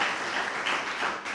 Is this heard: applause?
yes